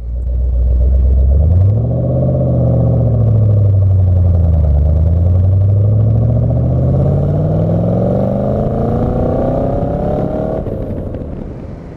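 A classic ISO Grifo's big engine pulls hard from idle while driving, a loud, close rumble rising and falling with gear changes across the whole stretch.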